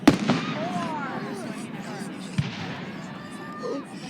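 Rapid-fire fireworks going off at a distance in a continuous dense rumble of bursts with a few sharper cracks, while people talk nearby.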